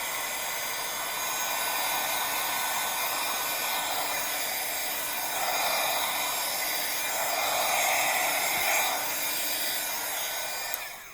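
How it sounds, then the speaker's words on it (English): A heat gun blows hot air over a handmade Halloween craft piece to dry it, a steady close rushing whoosh that swells slightly as the nozzle moves, with no talking. "let me dry this with a heat gun"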